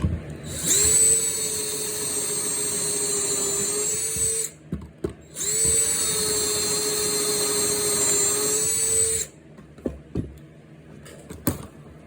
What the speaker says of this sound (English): And then you're ready to drill.